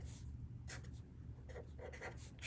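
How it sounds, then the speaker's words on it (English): Someone writing Pascal's triangle on a board during a maths lesson on the binomial theorem: quiet, close scratchy strokes in short bursts with pauses between, no voices. "So let's just write Pascal's"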